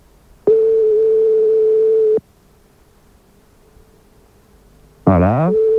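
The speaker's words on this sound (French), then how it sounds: "C'est parti, ça sonne." A steady telephone ringing tone sounds for about two seconds while calling McDonald's, loud and close, then falls silent before a voice briefly speaks.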